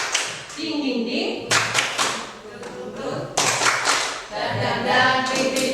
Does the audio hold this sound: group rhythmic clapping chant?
yes